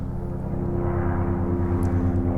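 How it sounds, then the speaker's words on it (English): An airplane passes overhead with a steady, loud droning rumble that holds evenly throughout, with nothing else standing out. "We let the plane pass."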